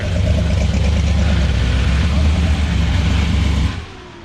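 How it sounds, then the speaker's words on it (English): A truck engine runs at a car show with a steady, loud, deep rumble held for several seconds, then cuts off abruptly near the end, leaving quieter background. "That's what a truck's supposed to sound like right there."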